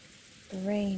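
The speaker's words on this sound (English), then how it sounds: "The rain has finally started pouring down in earnest, hasn't it?" Heavy rain pours down in the video game Umineko no Naku Koro ni, a steady soft hiss that runs throughout, joined halfway by a louder sustained tonal sound resembling a voice or music.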